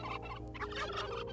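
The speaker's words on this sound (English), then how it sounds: "Turkeys." Turkeys gobble in the Minecraft 2M2L modpack, a few rapid, warbling game-sound gobbles that fill the short moment, fairly close and clear, with no talking over them.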